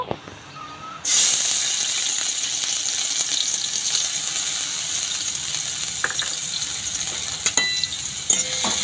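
Chopped garlic and ginger hit hot oil in a wok with a sudden loud sizzle that then holds steady and close, with a few light clinks of a utensil near the end.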